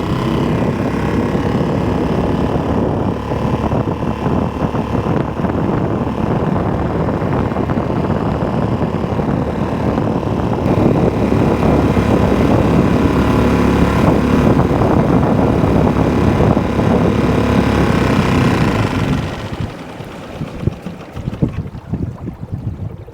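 Boat driven by an ePropulsion Spirit 1.0 electric outboard at about half throttle, heading against the wind: a loud, steady whir with heavy wind rush, then cutting out near the end.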